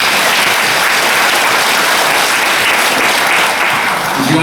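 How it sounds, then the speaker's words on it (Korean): An audience at a seminar applauds a guest lecturer, producing a loud, continuous wash of clapping from many hands that fills the whole stretch without a break. "우리 열강을 해주신 초청 강사님께 박수 드리겠습니다"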